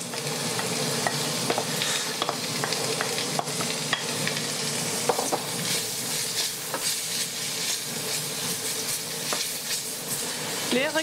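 Onions sizzle loudly and steadily in hot olive oil in a pan, with frequent crackles and pops and occasional scraping from stirring.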